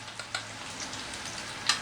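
Onions with turmeric stirred in a pan, a soft continuous sizzle with a few light clicks of the spoon against the metal, fairly quiet and close, no voices.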